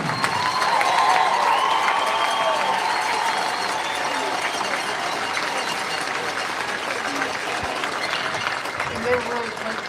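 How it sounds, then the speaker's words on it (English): An arena crowd at a Musketeers game applauds and cheers as Walt Johnson joins the Ring of Honor, a loud, continuous roar of clapping and shouting that stays full for the whole stretch. "it is definitely a well-deserved round of applause"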